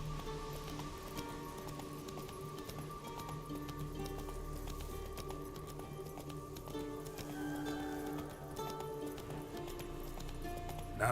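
Roach, Geralt's horse in The Witcher 3, trots along at a steady pace, hooves clopping in an even rhythm with faint tack jingles over a low ambient game score, no talking.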